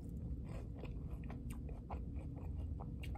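Fries are chewed close to the mic in soft, repeated crunchy bites over a low steady background, with no talking.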